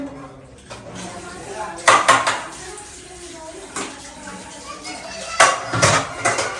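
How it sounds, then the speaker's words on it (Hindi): A metal tea pot is washed by hand, with scattered clanks and scraping of the pot amid running water, under nearby talk and children's voices. "ये चाय वाला बर्तन है ना, इसे धो लेते हैं"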